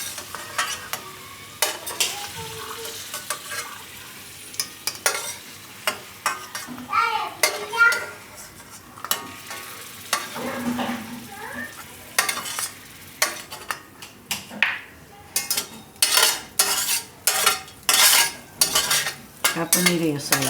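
Freshly fried paneer lifted out of the pan with metal utensils, repeated sharp scrapes and clinks against the pan over a low sizzle, getting busier toward the end, with a voice heard briefly.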